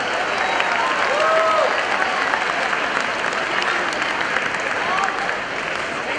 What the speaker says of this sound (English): That deserves another big round of applause.